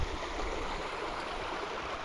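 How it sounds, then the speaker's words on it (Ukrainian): Steady, close rushing of a small stream, a shrunken former waterfall at a summer fishing spot for tench after the water level fell. The flow stays constant throughout, with no one speaking. "І це вже не водоспад, а щось таке маленьке, маленький струмок."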